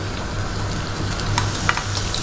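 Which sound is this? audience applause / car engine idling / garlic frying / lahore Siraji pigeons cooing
garlic frying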